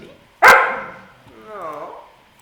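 One loud, sharp dog bark in Black Desert Online, followed by a softer whining, drawn-out yelp that trails away.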